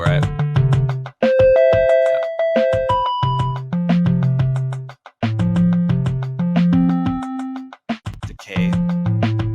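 Synthesizer notes with a long decay envelope, a sequence of bell-like pitched tones that each ring out and fade slowly, played loud and close with brief gaps between phrases.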